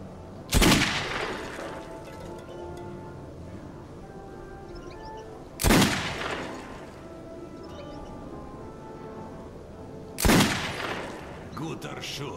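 Three loud, sharp gunshots at shooting practice in a video game, spaced about five seconds apart, each with a brief echoing tail over a steady background hum.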